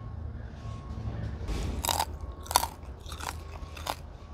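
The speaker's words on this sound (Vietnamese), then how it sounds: "Mình ăn cái da trước nó giòn rụm luôn." Crunchy bites into the crisp crackling skin of pan-roasted pork, several sharp crackling crunches spaced a second or so apart, close to the mic over a steady low background hum.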